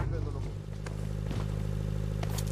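A vehicle engine in a battle royale video game hums steadily at a low idle with faint clatter, running under casual voices chatting in Hindi.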